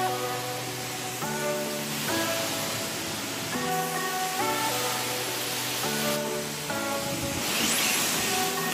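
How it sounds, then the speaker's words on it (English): A high-pressure soap sprayer hisses continuously at a car wash, a broad steady spray noise close by, layered with a repeating stepped mechanical tone from the wash equipment throughout. "I managed to spray that soap everywhere."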